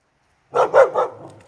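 A six-month-old husky barks on command outdoors: three quick, loud, close barks in a rapid burst, tapering into a softer trailing yelp.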